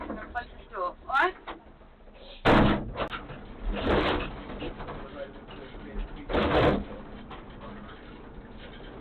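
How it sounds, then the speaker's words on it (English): Door closing with a heavy thud, followed a few seconds later by another solid slam, while people talk nearby throughout. "I'm going to close this door, alright?"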